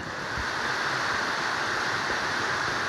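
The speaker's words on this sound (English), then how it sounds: "we just got to a winding stair gap, nice little waterfall" A small waterfall at Winding Stair Gap beside the Appalachian Trail produces a constant, fairly loud rushing hiss of falling water with no voices.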